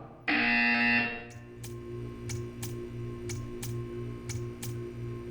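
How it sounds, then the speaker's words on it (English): A loud electronic buzzer in the video game Portal 2 blares for about a second, then regular ticking clicks follow over a low humming background. "You will hear a buzzer."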